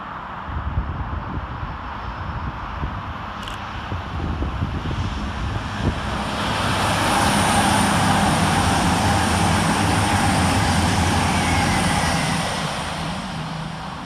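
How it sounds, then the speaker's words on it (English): An Avanti West Coast class 221 pair, 221-106 and 221-109, passes through Milton Keynes Central station. A loud, broad diesel roar and rushing rumble builds to a sustained peak midway, then holds, with no speech. "Next to pass through the station is 221-106 and 221-109, working 1 Delta 87 for Avanti West Coast from London Euston to Chester."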